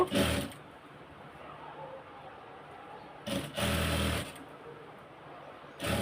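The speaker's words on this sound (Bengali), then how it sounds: "এরপরে এটাকে সেলাই দিব" Sewing machine stitching fabric for a garment neckline, heard in two short loud bursts of rapid mechanical whirring, one at the start and a longer run a few seconds later, with quiet handling between.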